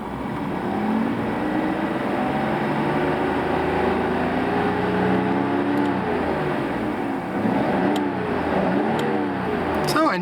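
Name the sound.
1989 Nissan Skyline GT-R engine running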